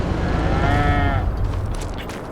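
Cows moo on a dairy farm in a video game, one long tonal low from a single animal over a steady bed of barn noise, loud and close, fading out after about a second.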